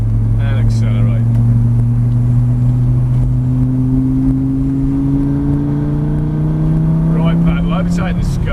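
A Lamborghini Gallardo's engine pulls steadily under acceleration, its rising drone climbing in pitch across several seconds while an instructor talks over the loud, close cabin noise.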